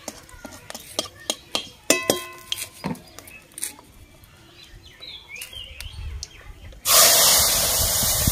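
Neem leaves go into hot oil: a run of sharp crackles and light clinks, then a sudden loud, steady frying sizzle for the last second and a half.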